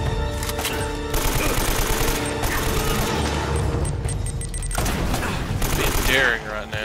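Gunfire in the video game Uncharted: Drake's Fortune, a loud, dense barrage of shots and impacts that continues almost without a break, with people talking over it.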